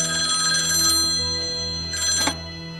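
A telephone rings with a bright electronic ringtone, loud and close, repeating in short bursts with a gap between them and no talking.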